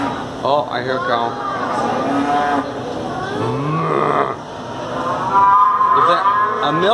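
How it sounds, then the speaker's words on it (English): A cow moo sound effect from a Swiss pinball machine rings out alongside the machine's other electronic effects, with people talking over it throughout. "Oh, I hear a cow."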